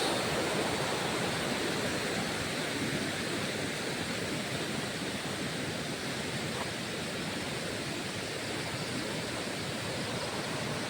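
River water flowing steadily in an unbroken broadband rush, loud and close, with no voices, near a river in Perak.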